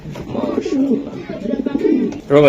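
Racer pigeons, grizzle-coloured birds for sale, give soft throaty coos close by, with a brighter burst at the end, while people talk over them.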